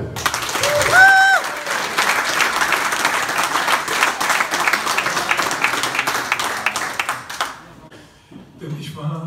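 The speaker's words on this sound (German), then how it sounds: "Grüßt in einen großen Applaus" Loud concert-style audience applause and cheering greet a Rockpalast television presenter at a live event, with a whistle near the start. The sustained clapping thins out and fades after several seconds, leaving quieter sounds and a voice at the end.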